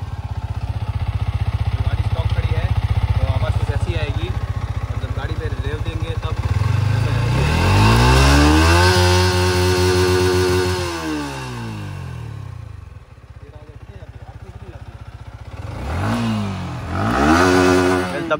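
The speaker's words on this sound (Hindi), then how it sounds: "गाड़ी स्टॉक खड़ी है तो आवाज़ कुछ ऐसी आएगी, मतलब गाड़ी पे रेव देंगे तब" Stock Yamaha MT15 motorcycle exhaust revving up close: a steady idle, then a long loud rev that rises and holds before dropping, followed by two quick throttle blips; someone talks over the idle.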